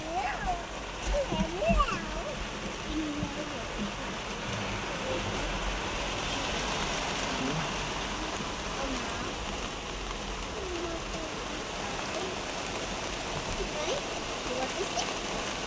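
Heavy rain pours down steadily, a dense, close hiss of drops splattering on surfaces that lasts the whole time, with a voice talking over it.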